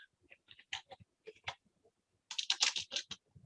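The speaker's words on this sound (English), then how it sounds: "Sorry, my typing." Close, quiet typing on a computer keyboard, with sparse scattered keystrokes at first, then a quicker, louder burst of clicking clacks.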